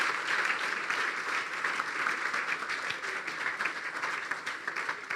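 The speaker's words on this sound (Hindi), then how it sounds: "यहां पर मैं कहता हूं जकई के लिए जोरदार तालियां बजा दें यार" A church congregation breaks into sustained applause during a sermon, a dense, even wash of clapping from many hands that fills the room for several seconds.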